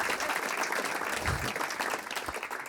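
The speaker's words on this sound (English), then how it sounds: "how about another round of applause for Earl?" Comedy club crowd clapping for a departing comic, a continuous dense patter of many hands at steady loudness from start to finish, with no talking over it.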